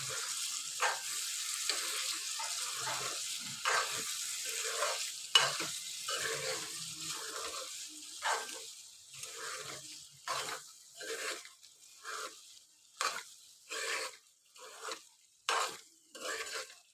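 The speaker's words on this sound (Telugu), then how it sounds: "ఒకసారి అంతా మిక్స్ చేసుకుందాము." Mixed vegetable curry of beans, potato and carrot sizzles in oil while being stirred, with a soft frying hiss and regular scraping strokes of a spoon against the pan that grow more rhythmic toward the end, close and fairly quiet.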